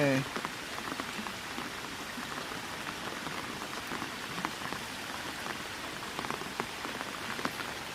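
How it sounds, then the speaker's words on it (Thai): Steady rain falls in a forest near an upland stream, a dense, even patter of drops on leaves and surfaces continuing throughout at moderate volume with scattered louder nearby drips. "มาช่วงฝนตกเนาะป่านี่เนาะ"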